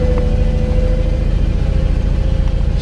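Engine of a classic truck called Brutus Bumpside, run for the first time in 16 years on a pasture test track, holds a steady mid-pitched rumbling idle with a constant hum, close and alone.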